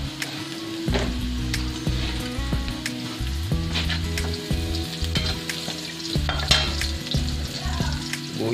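Mussels fry in hot oil for a home-style tahong dish, giving a steady close sizzle and crackle throughout, with faint tonal sounds in the background and no voices.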